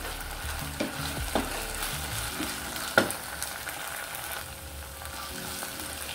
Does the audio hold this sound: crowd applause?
no